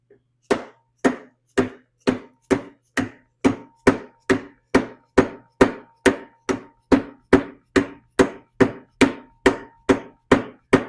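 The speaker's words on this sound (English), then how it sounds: "If you don't have a dead blow hammer like this, you just take a regular hammer" A dead blow hammer taps a bearing into a lathe, about twenty sharp even knocks in a steady rhythm, close and clear with nothing else around them.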